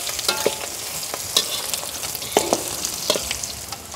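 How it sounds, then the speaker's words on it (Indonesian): Spice paste for vegetable lodeh, ground with kluwih and beans, is stir-fried in a hot pan, giving a steady sizzle broken by a few sharp scraping stirs. No one speaks. "Sekarang kita tumis. Tumis-tumis sampai harum."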